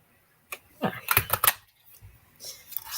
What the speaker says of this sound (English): we're going to start by punching the first bear